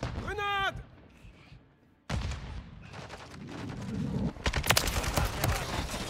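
Gunfire and explosions from the shooter game Call of Duty: Modern Warfare III in multiplayer: an opening whine, then a lull, followed by loud bursts of shots and blasts that grow denser and more chaotic toward the end.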